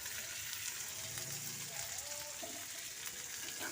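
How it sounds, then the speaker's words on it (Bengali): Onions fry in leftover fish oil in a pan for a Bengali meal, a soft, steady sizzle with faint crackles and a few quiet background noises. "আগে পেঁয়াজগুলো খুব ভালো করে ভেজে নিতে হবে।"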